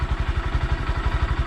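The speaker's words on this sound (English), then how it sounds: "This bike's really small to have a quiet exhaust being on the road." A 2020 Honda Grom motorcycle idles on its stock exhaust, a quiet, close, rapid and even low putter of firing pulses with a slight clatter.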